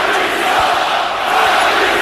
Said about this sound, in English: the crowd serenading Kyrie Irving